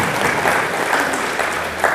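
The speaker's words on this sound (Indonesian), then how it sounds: "Tepuk tangan untuk Kementerian Perindustrian." Applause from an audience at an Indonesian Ministry of Industry technical training event near Lake Toba, a dense, steady wash of many hands clapping that holds for about two seconds.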